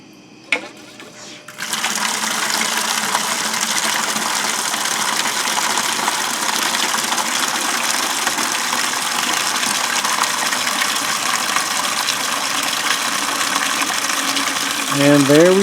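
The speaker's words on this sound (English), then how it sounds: "let's see if that new bilge pump pumps it out" A newly installed bilge pump runs steadily inside a boat being filled by a garden hose, giving a continuous loud mechanical whir and spray of water that starts abruptly after a brief quieter moment and holds constant, with a small shift near the end.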